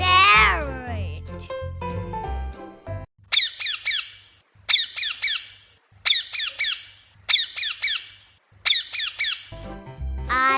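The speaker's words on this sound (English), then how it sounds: "parrot." A parrot gives a series of six short, sharp squawks at a steady rhythm, loud and near, with a voice speaking briefly before and after them.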